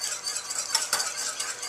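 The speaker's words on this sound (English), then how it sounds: "salt and pepper to taste, and then whisk it together" Vinaigrette dressing of wine vinegar, salt and pepper whisked in a bowl, a quick continuous swishing and light clinking of the whisk against the sides.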